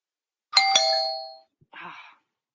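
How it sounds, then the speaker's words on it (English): A two-tone doorbell ding-dong chime rings once, a bright sustained first tone followed by a softer, shorter second note, clear and alone. "Do you hear the ding dong each time?"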